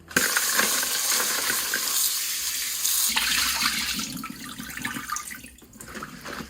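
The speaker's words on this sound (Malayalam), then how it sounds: "നമ്മുടെ ക്രാബ് നന്നാക്കി കഴിഞ്ഞ് ഇനി നമുക്കിത് വാഷ് ചെയ്തിട്ട് എടുക്കണം" Crab pieces rinsed under a running tap, a loud continuous splash of water with clinks and shifting as the pieces are moved, no voices.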